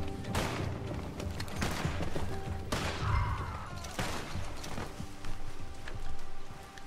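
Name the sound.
gunfire in the video game Red Dead Online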